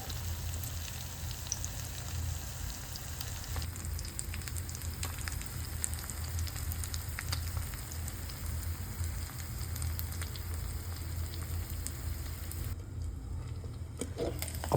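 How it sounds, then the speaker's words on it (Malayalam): Chinese pomfret fish frying in hot oil with curry leaves, a steady dense sizzle and crackle with a low hum underneath, continuous and close, without talk. "ഇനി നമുക്ക് മീനിൻ്റെ വേവും ഫ്രൈയും നോക്കിയിട്ട് അതിനൊന്ന് മറിച്ച് കൊടുക്കാം."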